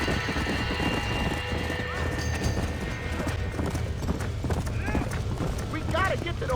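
In Red Dead Redemption, with a barn on fire, hooves clip-clop in a rapid gallop while a horse neighs, with voices and other game sounds mixed in, all loud and busy.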